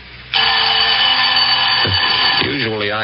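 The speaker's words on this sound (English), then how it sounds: "Usually I have to wake and turn off the alarm in the morning." A loud, steady alarm clock bell rings continuously as a radio drama sound effect, a dense metallic ringing that starts abruptly and holds for about two seconds before fading under the start of a voice.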